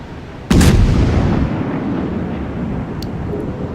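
A warship's heavy naval guns fire in the World of Warships game, a single loud, close boom that cracks sharply and then rolls off into a long, fading rumble.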